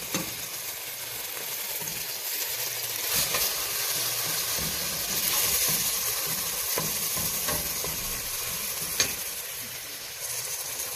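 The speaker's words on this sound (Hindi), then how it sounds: "और साथ ही इसके अंदर कीमा और गार्लिक पाउडर डाल के इसको खूब अच्छे से भून लेंगे।" Half a kilo of minced beef with garlic powder frying in a pan, a steady loud sizzle with faint stirring scrapes throughout, close and continuous, no voices.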